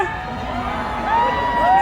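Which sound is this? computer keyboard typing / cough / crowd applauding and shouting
crowd applauding and shouting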